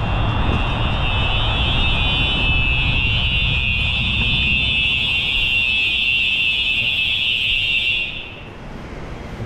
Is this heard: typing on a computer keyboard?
no